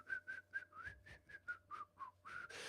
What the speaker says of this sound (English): Just starts whistling a little tune.